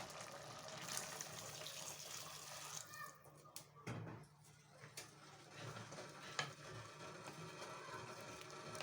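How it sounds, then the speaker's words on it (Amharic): Hot water is poured into a simmering pot of dried-meat soup with macaroni, making a steady running, splashing sound that lasts throughout at moderate loudness. "አሁን የሞቀውን ውሃ እላው ላይ እንጨምራለን ማለት ነው።"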